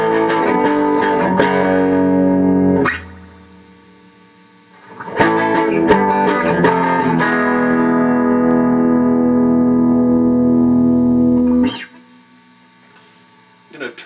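Loud, distorted chords from a 1967 Gibson SG Junior electric guitar ring out through an amplifier set to about 7, in two long sustained bursts with a quiet pause between them.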